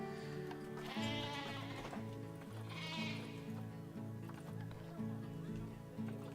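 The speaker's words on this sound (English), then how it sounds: "Dale sheep, not even a goat" Dale sheep bleat repeatedly in the zoo-building video game Planet Zoo, several wavering calls rising over a steady, busy background of ambient game sounds and music.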